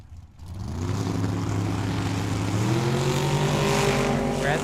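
Drag racing cars launching side by side at Tucson Dragway, a loud engine roar swelling within the first half-second and holding steady at full volume with rising harmonic tones.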